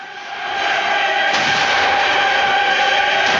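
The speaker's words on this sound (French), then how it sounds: "18h30, les premiers coups de canon retentissent." Cannon fire at the naval Battle of Aboukir in 1798 is rendered as a continuous heavy roaring rumble that swells within the first half-second and holds loud and steady, with no separate voices.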